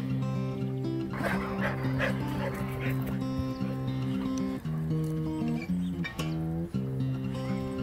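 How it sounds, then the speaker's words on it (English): A farm dog on a New Zealand homestead barks and yips, with whimpering tones layered over a steady tonal background, fairly close and continuing in irregular bursts. "That sounds like the farm dog."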